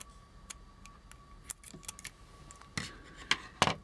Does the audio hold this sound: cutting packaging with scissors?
yes